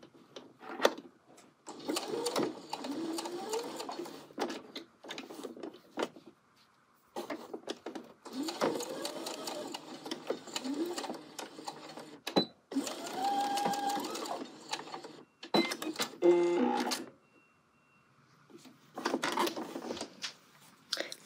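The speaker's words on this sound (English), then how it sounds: "Lift, pivot, and just sew this last tab down." A sewing machine stitches down a tab on a coat, running in several bursts of fast stitching separated by short pauses and lifts, close and fairly loud with no talk.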